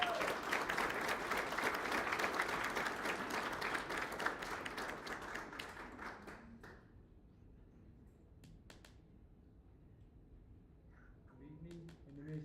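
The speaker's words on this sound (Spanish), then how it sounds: "Démosle un fuerte aplauso." Applause from a graduation ceremony audience for a student speaker, a dense wash of many hands clapping loudly for about six seconds, then fading to scattered claps and near quiet.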